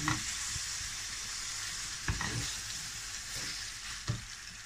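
Half a kilo of chicken mince sizzles steadily in hot oil, a soft continuous crackle broken by a few louder scrapes of stirring.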